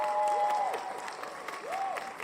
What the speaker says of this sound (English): I gotta give you applause for that one.